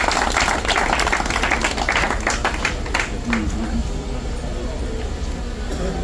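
Spectators at an ultra trail race prize-giving in the Mayombe applaud, a burst of clapping that is strongest early and thins out over several seconds while voices murmur underneath.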